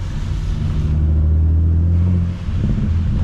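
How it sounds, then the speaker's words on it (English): A big-turbo BMW 335is running E85 revs hard on a downshift, a loud close engine roar that swells and holds steadily, then dips briefly before rising again, heard from inside the car with no talking. "Man, that E85, them downshift sounds crazy right now."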